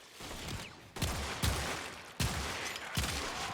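The Akvasto Prime pistol firing in Warframe: four loud, punchy shots in a steady rhythm, each followed by a short ringing tail over a low background.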